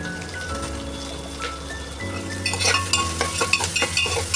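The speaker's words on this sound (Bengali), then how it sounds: "এটা একটু ভাজা করার চেষ্টা করছি, ভেজে নিচ্ছি" Vegetables including carrot, added with bay leaves for a dalia khichdi, are fried and stirred in a pan: a soft sizzle with a low hum, then a run of scraping, clinking spoon strokes against the pan's metal.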